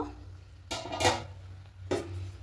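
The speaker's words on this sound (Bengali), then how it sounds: "ঢাকাটা খুলে নেব" A lid comes off a cooking pot of chicken keema pulao with a couple of close metallic clanks and scrapes over a low kitchen hum.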